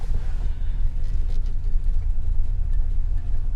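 1949 Dodge car engine pulling in top gear while driving, a steady low rumbling drone close up, with no talk.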